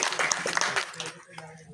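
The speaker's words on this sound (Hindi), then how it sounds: "इसीलिए जोरदार तालियों से स्वागत किया जाए" A crowd at a foundation-stone laying for a drain construction project applauds to welcome the local MLA, a burst of clapping that quickly thins out as voices carry on underneath.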